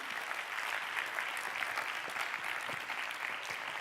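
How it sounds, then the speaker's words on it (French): An audience applauds the jury at a thesis-presentation contest final, a continuous, even roar of many clapping hands heard alone throughout. "On peut les applaudir."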